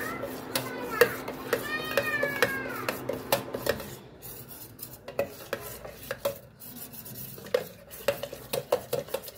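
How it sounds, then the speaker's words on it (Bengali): A spoon clinks and scrapes against a metal vessel while powdered milk is stirred into liquid milk, repeated rhythmic taps close by; a cat meows early on and a voice is heard. "আমি দুধটা অল্প অল্প করে দিয়েই গুলবো।"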